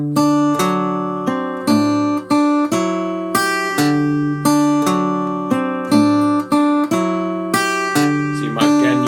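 Acoustic guitar playing a tune with an alternating bass line under the melody, a steady strummed and picked rhythm, close and clear, with no voice over it.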